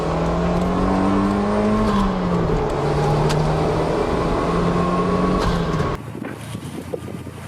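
A Toyota Celica WRC engine is revved up and down through its range, the pitch climbing and falling in repeated sweeps, loud and close, before cutting off to a quieter idle near the end.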